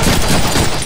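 Gunfire in a Deadpool video game, a short, loud, dense burst of rapid shots filling the whole moment without a break.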